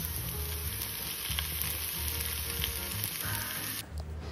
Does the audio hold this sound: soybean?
yes